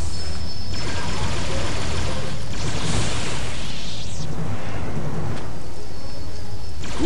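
A loud, booming blast from gunfire in the game Star Wars Jedi Academy, a dense rumbling roar filling the whole stretch with bursts of crackle and echoing debris, no talk.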